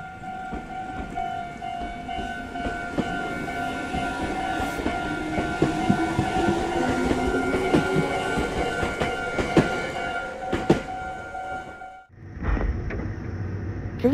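A train creeps through Haguro station at roughly bicycle speed because of the signalling equipment, its wheels clicking and rumbling nearby with sustained tonal squeal or horn-like lines, before a sudden cut to a quieter rumble near the end.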